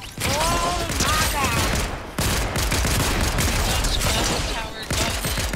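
Loud, dense bursts of rapid gunfire fill a Fortnite match, with repeated volleys cutting in and out over a few seconds.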